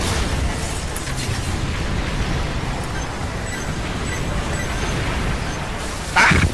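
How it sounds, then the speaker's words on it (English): An explosion in Earth Defense Force, a short loud burst near the end that rises above a steady roar of battle noise. "that was an explosion that went off there."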